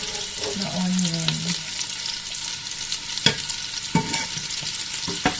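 White and red onions sizzle steadily in a hot pan, with occasional scraping clinks as they are stirred and a brief tonal hum early on.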